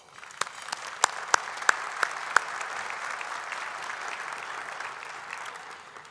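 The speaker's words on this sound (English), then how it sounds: "Let's give him a round of applause." Applause for a speaker at a defense-industry luncheon keynote, a steady wash of clapping from a seated audience with a few sharp individual claps standing out early, sustained evenly for several seconds at moderate loudness.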